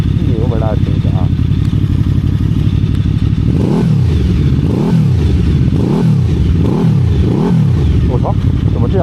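A QJMotor Flash 600 V4 motorcycle engine is revved hard with the throttle, giving about five loud, close rising-and-falling blips in a steady rhythm after a stretch of lower idle running, with someone talking early on.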